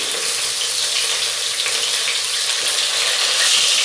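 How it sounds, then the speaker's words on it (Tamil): Sliced big onions and two green chillies frying in a pan for fish biryani, giving a steady, dense sizzle that holds evenly throughout. "இந்த பெரிய வெங்காயம் வந்து நல்லா வதங்கணும்"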